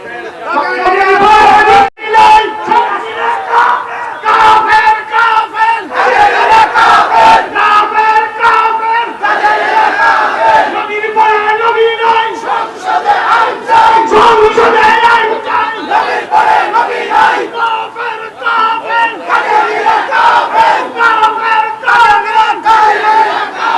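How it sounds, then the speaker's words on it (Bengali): A large rally crowd chants slogans in unison at a Bangladeshi religious gathering, a dense wall of many loud voices in steady rhythmic bursts throughout, with shouting that swells and repeats without pause. "এবার তোমরা স্লোগান দাও"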